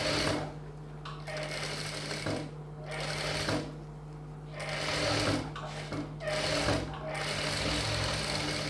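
A sewing machine double-stitching the seams of a boat neck blouse, running in repeated bursts of rapid stitching with short pauses between, loud and close, with a voice talking at times.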